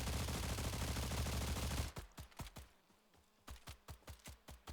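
Rapid video-game gunfire in a Slav folklore arena battle: a loud, dense burst of shots for the first two seconds, then about a dozen separate sharp shots at an uneven pace.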